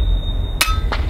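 An FX Impact M3 air rifle fires once: a single sharp, close crack under a steady high whine and low background rumble, followed by a fainter second impact-like tap.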